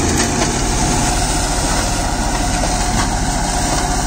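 A John Deere 5310 4WD tractor with about 30,000 hours of use, its engine idling steadily and loudly at close range, an even continuous rumble with no voices.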